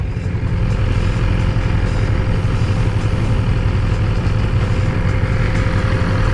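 A BMW S1000RR sport motorcycle engine runs steadily, a loud, dense low rumble holding constant throughout with no pauses or talk.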